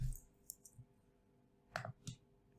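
A few quiet computer mouse clicks sound close by, with short pauses between them, in an otherwise hushed room.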